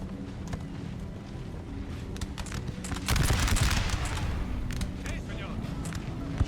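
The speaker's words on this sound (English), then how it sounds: "These guys here, they're trying to shoot a long way." Musket volleys in Napoleon: Total War crackle as dense, overlapping bursts of fire within a continuous roar of battle noise. The din swells louder about halfway through and holds steady to the end.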